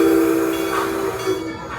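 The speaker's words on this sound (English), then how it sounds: "as we will be departing the St. Louis train station" A Six Flags St. Louis amusement park railroad train sits at its station under a loud, steady whistle-like tone and hissing, which fades as it moves off.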